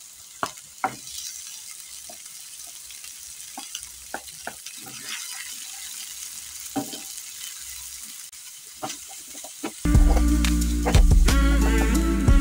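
Diced garlic and ginger frying in a pan, soft crackles and pops over a quiet base, then a loud burst of sizzling near the end as the pan takes the ingredients.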